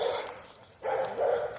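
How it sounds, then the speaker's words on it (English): Dogs bark in two short bursts at moderate distance, with a brief lull between them, heard outdoors while someone is out walking. "I'm so sick of barking fucking dogs"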